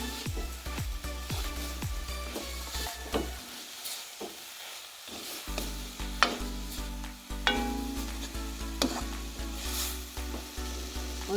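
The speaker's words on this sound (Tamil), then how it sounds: "தேங்காய் பூவை போட்டுட்டு கிளறிடுவோம்." Grated coconut stirred into banana flower frying in a pan for a Jaffna-style fry, with steady sizzling and repeated scraping strokes of the spoon, close and clear, no talking.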